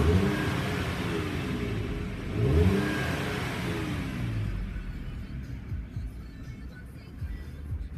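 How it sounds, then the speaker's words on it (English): A 2007 Suzuki XL7 Luxury engine revs up sharply near the start, swells briefly, then settles back toward a steady mid-pitched run, heard close with no talking. "I'll rev it up for you."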